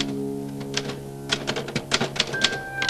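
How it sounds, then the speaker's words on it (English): Mechanical typewriter keys strike in a quick, uneven burst of sharp clacks, close and fairly loud, with a faint bell-like ding near the end and no talking. "And then came the typewriter"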